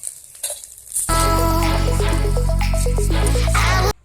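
Small chuno fish fry in a very hot wok, a loud, steady sizzle bursting in after a second of quieter kitchen sound and holding strong until it stops abruptly near the end.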